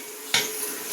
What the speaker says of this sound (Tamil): இப்போது சாம்பாருக்கு கலந்து விட்டுட்ருக்காங்க.